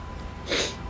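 A single short nasal sniff from allergies, quick and close, over a faint steady background hum.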